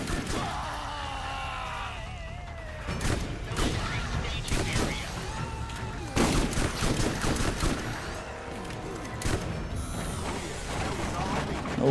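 Shotgun blasts and other gunfire crack repeatedly in the video game Borderlands 1, loud bursts over steady game noise with a voice talking now and then.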